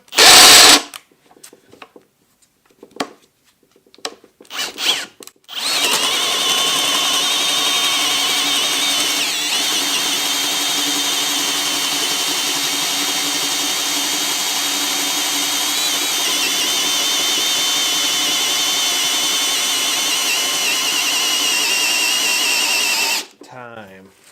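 A Kobalt brushless hammer drill on speed 1 runs loud and steady for about eighteen seconds, a continuous high motor whine, after a few brief knocks and bursts at the start.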